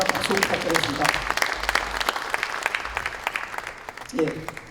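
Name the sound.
applause at a party assembly meeting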